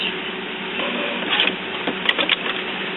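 An HP Photosmart inkjet printer fitted with a continuous ink system runs steadily, its mechanism whirring with small clicks and clunks near the end, close and fairly loud with no talk.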